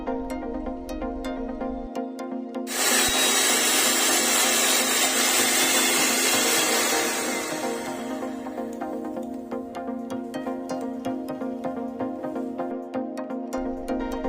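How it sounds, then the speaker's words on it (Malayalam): An electric mixer whips cream at high speed to stiff peaks, giving a steady motor whine with a louder, rougher whooshing stretch in the middle. No one speaks. "ആ ക്രീം നല്ല സ്റ്റിഫ് പീക്സ് ആവുന്നവരെ നമ്മൾ നന്നായിട്ട് ബീറ്റ് ചെയ്തെടുക്കണം"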